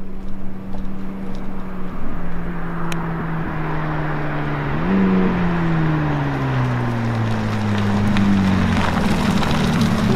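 Supercar engines drone in the distance, their pitch rising and falling as the cars rev and draw closer over a ridge, over steady outdoor background noise.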